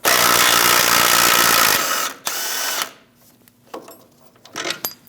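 A power tool spins an 18mm socket to remove a bolt from the front center link of a 2001-2006 Chevrolet Silverado 2500 HD, a loud burst that cuts off, followed by shorter ratcheting bursts and metallic clicks.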